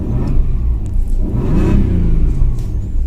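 A Ford Probe's engine idles loudly up close, its throaty rumble rising and falling as it revs a few times.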